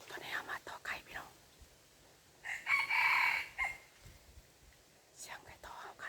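A decoy jungle fowl rooster crows once, mid-length and fairly clear, amid quiet outdoor forest ambience with soft whispered voices before and after.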